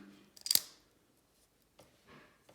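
A SOG Terminus XR folding knife gives a sharp metallic click as its lock engages, a single crisp snap near the mic, followed later by a couple of faint softer handling clicks in quiet.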